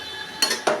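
A lid set onto a cooking pot of jackfruit and prawn curry on the stove, two quick metallic clinks close by in a quiet kitchen.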